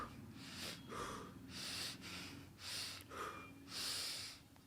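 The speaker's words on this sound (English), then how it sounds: "you can do a bit of power breathing to shoot up oxygen" Forceful rhythmic breathing through the nose, a series of sharp hissing inhales and exhales in steady succession, close and quiet with no talk.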